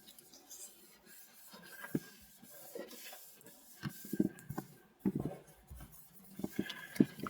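A pen writes on paper, heard as faint, intermittent scratchy strokes and taps close by, growing busier toward the end, with a light background hum.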